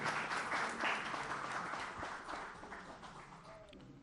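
Applause for a production director being called up at a ceremony, a broad wash of clapping that stays steady and fairly loud before easing off toward the end.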